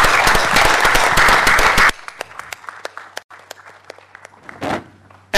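Audience applause for a gentleman during a vote of thanks: dense, loud clapping that stops abruptly, leaving a few scattered individual claps and some shuffling footsteps in a quieter room.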